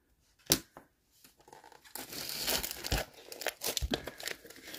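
A crinkly plastic package being torn open during a scrapbooking supply haul: a sharp crackle first, then a sustained bout of loud crinkling and tearing, close and unaccompanied by any voice.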